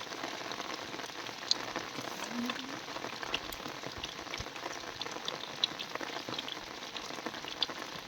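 Steady rain patters across the Sundarbans forest, a soft, even hiss with scattered drops, faint and continuous and with no talking.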